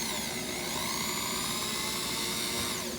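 A power drill bores into a wooden shelf side bracket, giving a loud, steady high-pitched whine that runs unbroken for the whole stretch.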